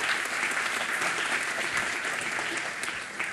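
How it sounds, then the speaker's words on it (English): A lecture-hall audience at the ITA 2011 Relief Session gives Galen Reese of UC Berkeley a round of applause: dense, steady clapping from many hands, loud and sustained throughout, easing slightly near the end. "I'd like a round of applause for Galen Reese from UC Berkeley."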